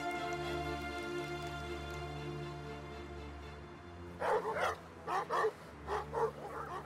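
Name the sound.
dogs barking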